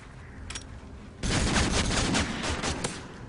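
Gunfire in Call of Duty Modern Warfare 3: after a quiet lead-in with one faint shot, a dense, loud burst of rapid automatic fire with overlapping shots rattles on continuously.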